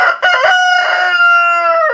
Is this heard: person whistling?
no